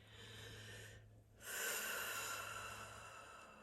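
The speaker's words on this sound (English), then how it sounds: "close your eyes, take a breath with me" A slow, deep breath taken with eyes closed during a calming pause, a long airy inhale followed by a fuller exhale over a steady low hum, close and fairly loud, with no talking.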